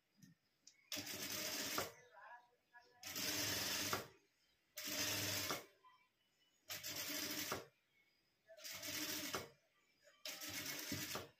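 A sewing machine stitches a velvet-lined blouse in six even bursts of a few seconds each, separated by quiet pauses, close and clear.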